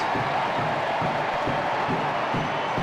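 Stadium crowd roaring after a goal in a U.S. Open Cup soccer match between Sporting Kansas City and FC Dallas, a dense, sustained wash of cheering that stays loud and even throughout.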